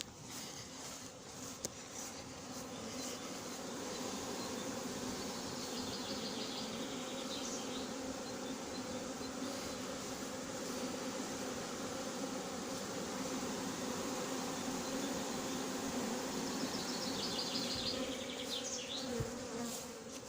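A honeybee swarm being put into a hive near Athis-Mons gives a dense, steady buzzing that holds at an even level throughout, close and continuous with no talking.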